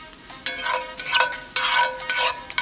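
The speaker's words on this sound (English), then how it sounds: "Stir, stir, stir. You don't want your garlic to burn." Garlic frying in oil over medium-high heat sizzles steadily, with a few loud bursts of stirring and scraping in the pan and no voices.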